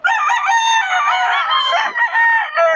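Roosters crowing loudly and close at hand in Bocaue, one long cock-a-doodle-doo call followed by another starting near the end, with some hen clucking mixed in.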